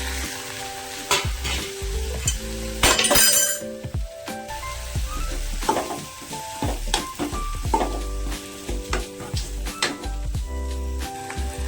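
Onions and tomatoes frying and stirred in a pan, a steady loud sizzle under repeated scraping and occasional metallic clinks of a spoon against the vessel, close up throughout.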